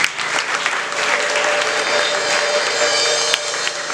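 A church audience applauds a missionary, a dense, loud and continuous wash of clapping from many hands.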